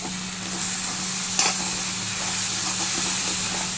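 Mutton pepper gravy is stirred after fine tomato paste goes into the pan, giving a soft, steady sizzle and hiss with faint scraping, including one brief clink. No voices are heard.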